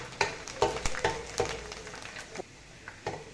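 Ingredients for zarda rice, a sweet saffron rice dish, fry in a pan with crackling sizzle and a run of sharp spatula scrapes and taps at an irregular pace, close and fairly quiet.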